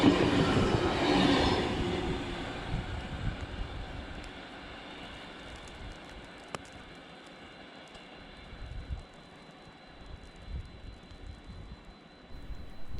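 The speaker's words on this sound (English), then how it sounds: "V38 cruises through the side of the old Clarence railway station bound for Sydney" V set passenger train V38 rolling past the old Clarence railway station toward Sydney, a steady loud rumble of wheels and cars fading slowly with faint clicks and a sharp squeal midway.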